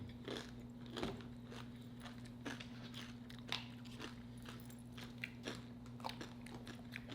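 A chip crunched between the teeth, heard as a series of sharp, close bites and chews in an uneven rhythm over a low steady hum.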